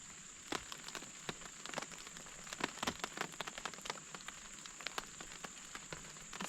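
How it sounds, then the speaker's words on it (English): Rain falls steadily with scattered sharp drops pattering on a surface, a soft constant hiss under irregular close taps, with no voices. "As the rain comes down"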